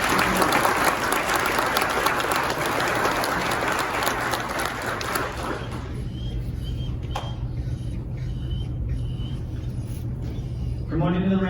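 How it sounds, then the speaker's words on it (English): A crowd at a county sheriff's department promotion and awards ceremony applauds loudly for several seconds, then the clapping thins and fades into a quieter room with a few scattered sounds. "A round of applause for Detective Becker."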